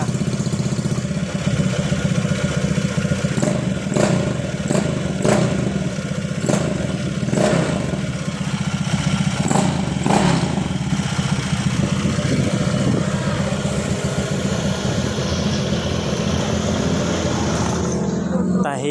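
A small engine runs at a steady idle nearby, with a few sharp clanks and taps over it and a brief voice partway through.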